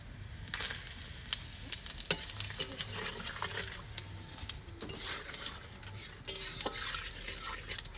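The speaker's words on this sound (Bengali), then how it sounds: "তেলটা গরম হয়ে গেছে এখন দিয়ে দেবো তেজপাতা তেজপাতা আর জিরে তেলে" Bay leaves and cumin seeds sizzling in hot oil in a village kitchen: a soft, continuous frying hiss with scattered crackles and light clinks of utensils, fairly quiet and close.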